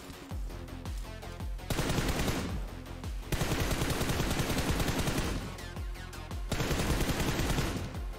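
Gunfire in a solo-versus-squads battle royale video game: loud, dense automatic bursts and rapid shots in several long volleys separated by brief pauses, with no talking.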